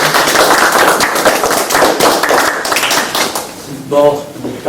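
An audience at an evening lecture and discussion applauds with dense, steady clapping for about four seconds before a voice begins speaking near the end.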